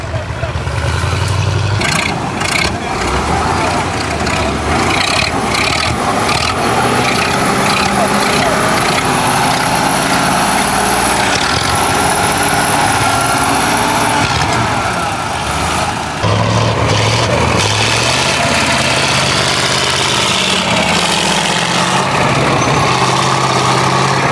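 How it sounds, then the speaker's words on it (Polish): A tracked Russian armoured transporter's 14-litre KrAZ V8 diesel rumbles loudly and steadily nearby at a historic military vehicle rally, its deep drone shifting slightly in revs, with a brief change partway through. "rosyjski wóz z silnikiem Kraza 14 litrów V8"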